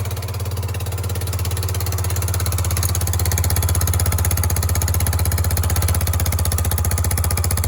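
A Yamaha YBR 125 motorcycle engine idles with a steady, close, rhythmic putter, its exhaust blowing at a leaking gasket; no voices.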